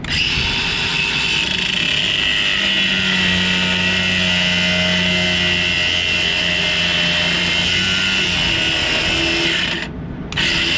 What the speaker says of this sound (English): So we're gonna grind this one off